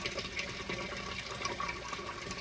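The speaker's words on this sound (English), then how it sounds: "All you had to do was just run it under some hot water" Hot tap water runs steadily over ripe tomatoes in a kitchen sink, a continuous close splashing rush with no pauses.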